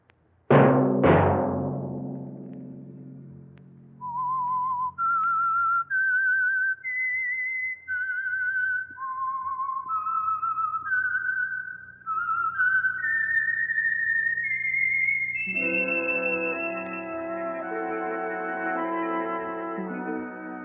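A clear, melodic whistled tune, the theme of the radio mystery show The Whistler, carries on for about twenty seconds, rising and falling in pitch, following two sharp opening notes.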